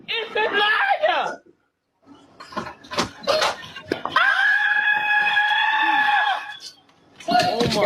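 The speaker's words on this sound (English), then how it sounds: "Oh my God, her scream echoing." A woman screams with echo, several loud sustained shrieks with a pause between them, close and ringing.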